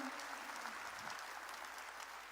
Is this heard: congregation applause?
yes